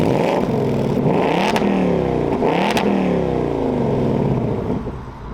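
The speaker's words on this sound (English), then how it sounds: "Here's the exhaust in sport mode." A loud, throaty 2024 Ford Mustang GT V8 exhaust in sport mode revs repeatedly, rising and falling in pitch with sharp crackles between pulls, fading slightly at the end.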